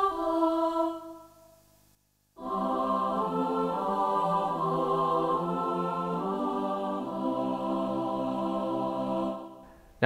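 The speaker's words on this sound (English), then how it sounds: "Now I'm going to demonstrate the choir sound here because I particularly like this" Choir voice on a Yamaha P515 digital piano: sustained sung-vowel chords with rich stacked harmonics, a short phrase, a brief silence, then a long held chord progression at steady volume, no talking.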